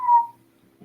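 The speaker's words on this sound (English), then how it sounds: "Well, all three of us were whistling." A single short whistled note rings out clear and fairly loud during a tabletop Pathfinder game session, fading within a third of a second, followed by a faint low murmur.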